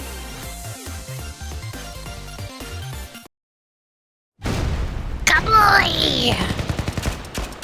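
Explosions and gunfire in the video game Blue Archive, a loud dense blast and crackle after a short silence, following rhythmic game music, with a brief voice in the mix.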